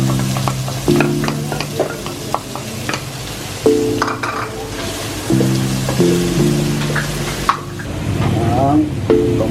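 Chicken frying in a pan for Filipino-style chicken biryani, a steady loud sizzle running throughout with scattered clinks of utensils and faint background voices.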